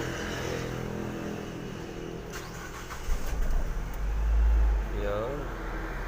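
Nissan Livina engine cranking and catching after a fuel pump replacement, a low surge of starting rumble that settles into a cold idle, with a voice talking over it.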